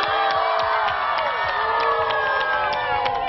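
Kids at a kendama camp shout and cheer for Tsonghi, a steady wall of high voices with scattered hand claps ticking through it, held at even loudness for a few seconds.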